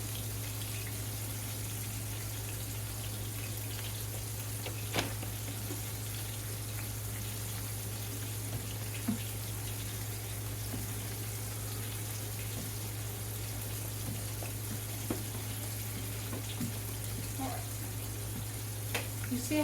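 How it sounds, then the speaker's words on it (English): Fish and french fries frying in hot grease give a steady, even sizzle throughout, calm and continuous with a few small pops and crackles over a low constant hum. "You see how the frying has calmed down? The sound of the frying?"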